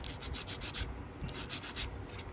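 An SMS sanding stick rubs in quick, even back-and-forth strokes, a soft rhythmic scratching heard close and fairly quiet with no talking.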